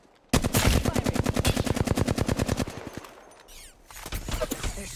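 Rapid automatic gunfire in a battle royale video game, a loud close burst of evenly spaced shots lasting over two seconds, then quieter scattered game sounds and distant shots trailing after.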